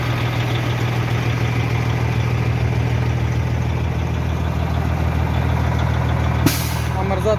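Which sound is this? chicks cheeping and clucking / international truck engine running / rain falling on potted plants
international truck engine running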